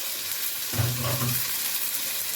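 Chopped tomatoes frying in a pan for a Bengali lunch, a steady hiss of oil with a brief louder sizzle as something is stirred in, close and continuous.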